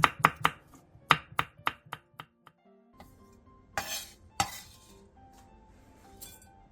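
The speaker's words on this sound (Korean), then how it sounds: "청양고추 6개와 홍고추 1개를 길게 반으로 갈라 씨를 털어낸 뒤 길게 채 썰어주세요" Green onion and Cheongyang chili peppers split and sliced with a knife on a board, a quick run of sharp, evenly spaced chops up close, then softer scraping and clinks.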